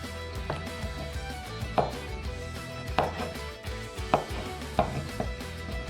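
A knife finely chopping garlic on a board, with steady repeated chopping taps roughly every second, close and clear, with no talking.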